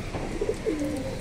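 Pigeons coo close by in a loft, a few soft, low, rounded calls rising and falling over a quiet background.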